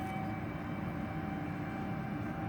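A radio-controlled model Airbus airliner flies at 70% throttle, its engines giving a faint, steady, distant whine and rumble throughout the short stretch.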